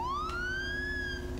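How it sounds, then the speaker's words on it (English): A police car siren in State of Decay sounds a single loud electronic wail that rises quickly and then holds and slowly fades, over a low engine hum with no talking. "It is the A button for siren."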